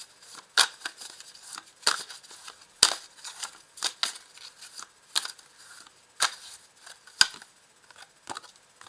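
Tarot cards shuffled and handled by hand, giving a run of crisp, irregular flicks and snaps, close up and without talk.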